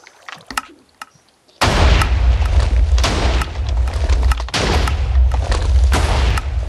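A Minecraft redstone rapid-fire TNT cannon fires a dense run of heavy booms and blasts. After a quiet start with a few clicks, the explosions begin suddenly and keep going loud and nearly continuous.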